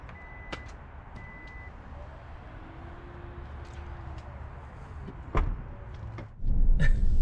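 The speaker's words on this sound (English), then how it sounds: "We're actually able to get the tailgate to close automatically with those bags." A Kia Telluride 2020 power tailgate closes on its own with a soft motor whir and a warning beep, then a heavier thud and latching clunk near the end.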